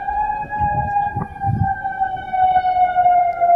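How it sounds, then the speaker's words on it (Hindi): An air raid siren wails in Qatar, a loud sustained tone gliding slowly upward, with some rumbling noise and faint low sounds beneath it. "सायरन बज रहा है, लोगों से शेल्टर में रहने के लिए कहा गया है।"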